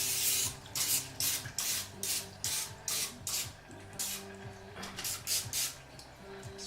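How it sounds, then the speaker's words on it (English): Short repeated hissing bursts of an aerosol cooking oil spray onto wonton wrappers, about a dozen quick pulses in an uneven rhythm, close and fairly quiet. "So the key here is to spray it well. So I'm going to spray the tops."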